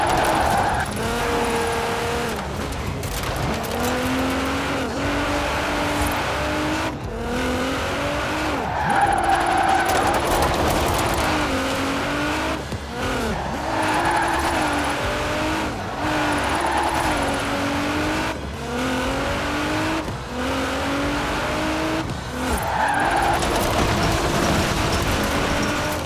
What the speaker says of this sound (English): Bit of speed, turn in, feather the e-brake as you hold the accelerator.